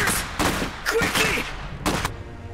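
Gunfire in the real-time strategy game Iron Harvest during a ranked 1v1 match: several sharp, loud volleys and rattling bursts in quick succession, with brief gaps between them.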